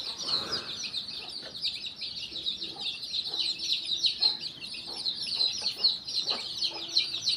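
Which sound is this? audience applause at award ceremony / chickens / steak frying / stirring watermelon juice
chickens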